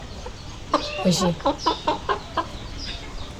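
Chickens, some of them sick, cluck in a quick run of short, sharp calls close by, a rhythmic series of pulses with a brief voice near the start.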